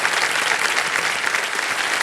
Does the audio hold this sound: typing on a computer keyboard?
no